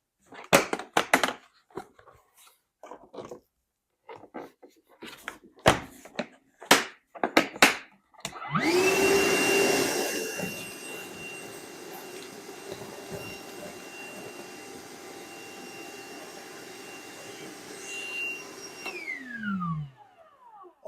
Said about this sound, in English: the Milwaukee was able to pick up that debris a lot faster